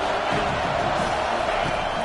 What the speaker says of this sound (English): Here comes the crowd trying to make it tough on third and long.